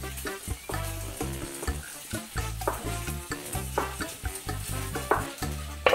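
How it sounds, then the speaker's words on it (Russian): Sliced boiled eggs sizzle steadily in a hot pan while a utensil stirs and scrapes in a loose, repeated rhythm, close by. "И буду обжаривать до золотистого цвета."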